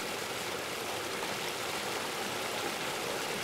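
A river in an animated Bengali horror cartoon rushes steadily: a dense, even hiss of flowing water that stays constant and fairly loud throughout, with no voices.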